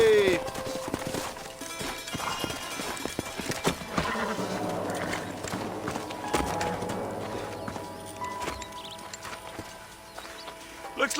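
Horses gallop in Red Dead Redemption near an old house, with steady clip-clop hoofbeats, a whinny and game ambience, and spoken dialogue over the top.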